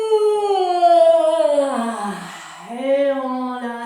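A person yawns loudly and long with arms open during a home theatre exercise, a drawn-out voiced yawn that falls in pitch, dips, then rises again, close and clear.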